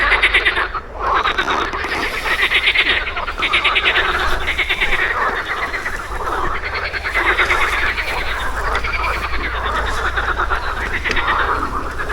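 Frogs croak beside the Sumka river in a loud, dense chorus of rapid pulsing calls. The chorus is close and runs without a break, rising and falling in steady waves.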